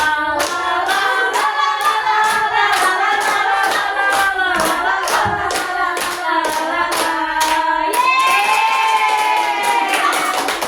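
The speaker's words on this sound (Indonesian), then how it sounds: "Tepuk untuk kelompok Masya" A group claps hands together in a steady, loud, rhythmic pattern of evenly spaced beats, with voices chanting or singing along over the clapping throughout, at a school microteaching session.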